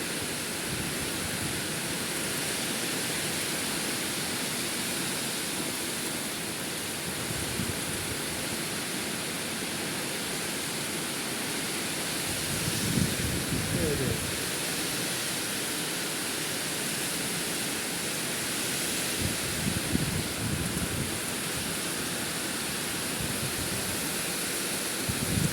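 Heavy rain driven by strong wind roars in a dense, unbroken wash, loud and close throughout, with a few heavier gusts swelling midway and toward the end; no voices.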